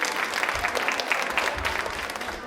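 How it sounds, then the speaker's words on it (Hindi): A studio audience on a televised quiz show gives loud, dense applause that continues without a break, with faint low rumbles beneath the steady clapping. "तालियां प्लीज एक बार जोरदार हो जाए"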